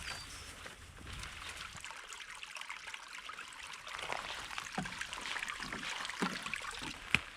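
Small spring stream trickling through the woods on the Cutler Coast, a faint, soft, steady babble with a few light splashes.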